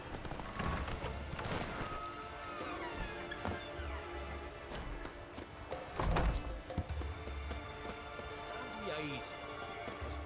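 Hooves of the horse Roach clip-clop in The Witcher 3 video game, an irregular trotting patter mixed with game effects and a brief crash, with someone speaking over it.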